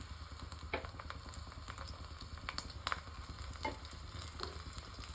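Garlic sizzles in hot oil over a lowered gas flame, a quiet steady frying hiss with sparse crackles and small pops, close but faint, with no one speaking.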